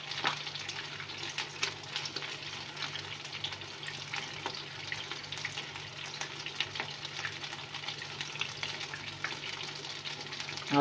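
Chapli kabab sizzles in hot ghee, a steady close crackling fry with sharp spitting pops scattered throughout and a faint low hum beneath, no one speaking.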